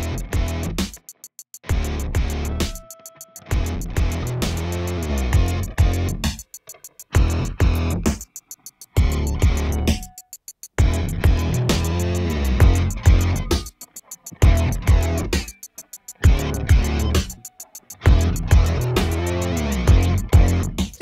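Multitrack recording played back from a computer and a Tascam MS-16 tape machine at once, the slightly misaligned copies giving a swirling flanged sound across rhythmic music with sharp drum hits and short gaps, loud and close.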